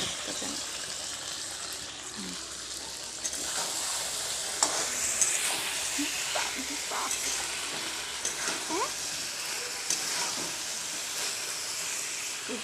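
Meat frying in a pan while being stirred, with steady broadband sizzle and hiss and intermittent scraping strokes of the stirring spoon throughout, close and continuous with no talking.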